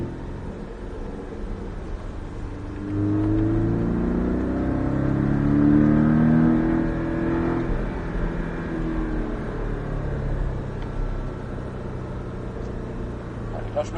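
Porsche Cayman S on a racetrack, its engine climbing in pitch as it re-accelerates, building to a loud peak mid-way before settling into a steady drone, with an instructor talking over it.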